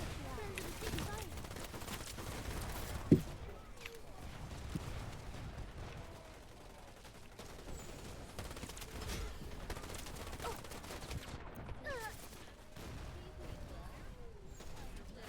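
Gunfire in the video game Wild Assault: a steady spread of distant shots and a rattle of battle noise, with one sharp nearer crack early on, running under the whole stretch with no words spoken.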